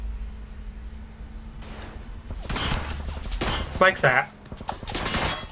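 Gunfire in a PUBG match, several sharp shots cracking in quick bursts in the second half after a quieter opening, fairly close and loud, with a player talking briefly.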